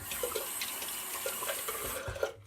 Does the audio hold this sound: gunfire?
no